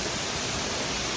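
Dense, steady rush of falling water heard from behind a waterfall, a loud constant hiss filling the whole moment with no breaks or voices.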